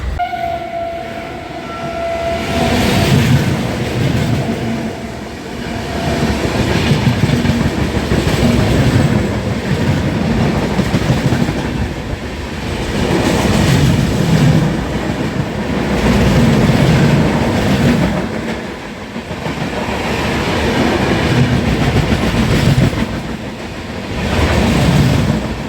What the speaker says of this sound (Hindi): डबरा से ट्रेन को जो है थोड़ा स्लो निकाला गया